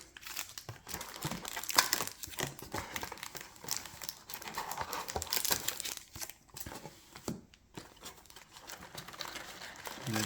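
LOTR TCG Fellowship of the Ring booster packs pulled from a booster box, continuous crinkling and rustling of foil wrappers with uneven bursts, close and fairly loud, no talk.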